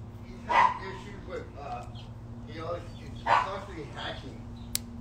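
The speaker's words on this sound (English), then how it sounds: "It's one of Ernie's dogs." A dog barks twice in short, sharp bursts at a moderate distance, with a steady hum and quiet background talk between the barks.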